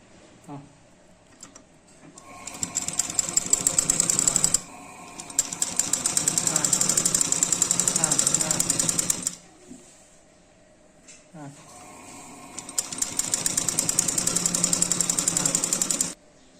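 A sewing machine stitches a kurta, running in three long bursts of fast, rhythmic mechanical clatter close to the microphone. Short quiet pauses come between the runs, with faint handling noise in the gaps.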